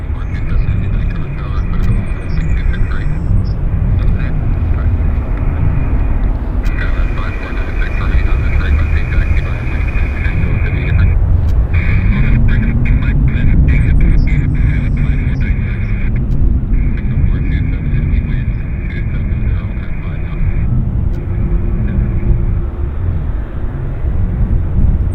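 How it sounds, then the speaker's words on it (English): WestJet Boeing 737 taxiing at Vancouver Airport, a steady low rumble and jet engine whine that holds throughout with faint background noise and little change in level. "So we'll just pan back to the WestJet 7-8 taxiing out."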